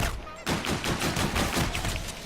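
Rapid pistol gunfire in Call of Duty: Advanced Warfare, a dense run of sharp shots rising after a brief quiet start and continuing loud and steady, with no talk.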